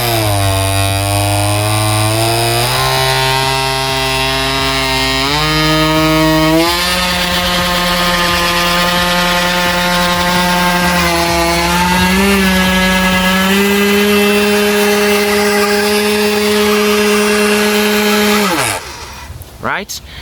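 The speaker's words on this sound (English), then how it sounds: "right, that was the energy generator" An RC car energy generator runs continuously for about twenty seconds, a loud steady motor whine with strong harmonics that steps up in pitch several times, holds high, then cuts out abruptly near the end.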